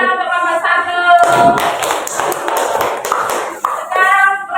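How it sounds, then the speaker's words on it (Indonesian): A sixth-grade classroom of children claps for group one, a dense burst of many hands lasting a few seconds, with children's voices briefly before and after. "Tepuk tangan untuk kelompok satu."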